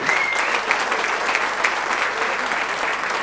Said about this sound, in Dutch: Groot applaus voor al onze winnaars en in het bijzonder voor Miel.